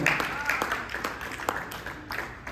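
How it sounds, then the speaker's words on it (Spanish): A church congregation claps for God during a sermon, a brief burst of scattered handclaps at moderate distance that stays fairly soft and uneven. "Dale un aplauso al Señor."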